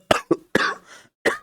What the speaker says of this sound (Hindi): टॉलरेट कीजिए इसे, खांसी को कोई उपाय नहीं है, अचानक आ जाता है।